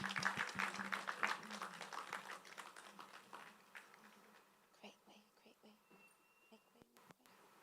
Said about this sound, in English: Everyone, please, rounds of applause.